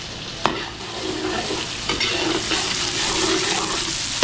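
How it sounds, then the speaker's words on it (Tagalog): Garlic and onion sautéing in a heated wok for sisig, a loud, steady close sizzle with a sharp initial hiss as they hit the oil and a few stirring scrapes. "painitin muna natin itong kawali, tapos bawang sibuyas na to"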